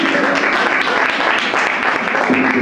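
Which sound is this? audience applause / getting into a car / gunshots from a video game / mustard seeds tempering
audience applause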